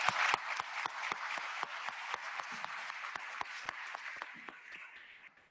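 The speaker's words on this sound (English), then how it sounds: "let's give both sets of their parents another round of applause" Applause at a county board of commissioners meeting: steady clapping from a modest indoor crowd, with sharp individual claps standing out, lasting several seconds and fading at the end.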